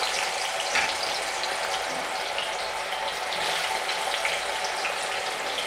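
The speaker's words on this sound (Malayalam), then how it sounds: "ഉപ്പൊന്നും പുരട്ടാതെയാണ് കേട്ടോ നമ്മൾ വറക്കണത്" Unsalted mango pieces deep-frying in a pan of oil, a dense, continuous, rushing hiss that holds steady throughout with no talking.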